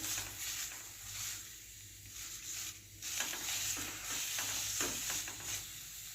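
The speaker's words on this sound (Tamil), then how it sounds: "வெறும் வானலிலேயே சேர்த்துட்டு நான் இதை கொஞ்சம் நேரம் வதக்கிக்க போகிறேன்." Herbal rasam ingredients being dry-sautéed and stirred in an empty pan with no oil, a soft continuous sizzle and scraping patter, close but quiet, with no talking.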